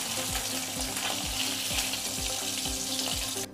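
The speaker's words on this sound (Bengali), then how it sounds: "ইলিশ মাছগুলো কড়াইতে নাড়াচাড়া করে ভেজে নেব" Hilsa fish pieces fry and get stirred in a wok of oil, a close, steady sizzle with regular spatula scrapes about twice a second and background music.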